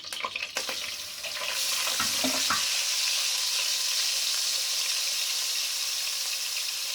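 Garlic, ginger, cardamom, cloves and black peppercorns drop into hot oil and burst into a loud, steady sizzle, preceded by a few clattering stirs of the pan, the frying hiss continuing close and unbroken.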